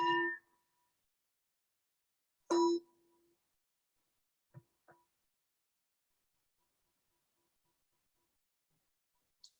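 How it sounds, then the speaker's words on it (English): A meditation bell is struck, rings clearly and fades into silence, then a second strike rings and decays, followed by a few faint taps and a brief high ping in an otherwise quiet room. "So the fading of the sound of the bell"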